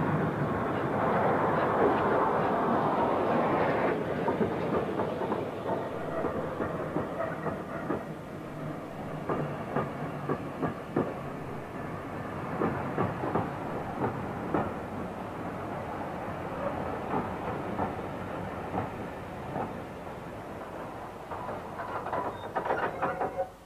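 A steam train hauling newly restored Great Western coaches, including a 1940 twelve-wheeled Royal Saloon, rumbles steadily at Henley in Arden station, with a continuous low roar and scattered rail clicks throughout and no voices.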